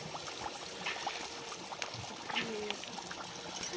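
Quiet, steady sizzling of frying in hot oil, with scattered crackles and small pops throughout.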